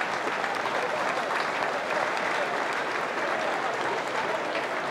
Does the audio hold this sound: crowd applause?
yes